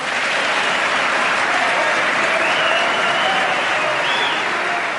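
A political audience of Republicans in the United States cheers, whistles and claps loudly, a thick unbroken wash of applause with sharp whistles rising above it.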